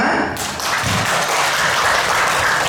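An audience gives steady, dense applause at an inter-high-school quiz competition in Labuhanbatu regency, a continuous wash of clapping that holds at an even level from start to finish.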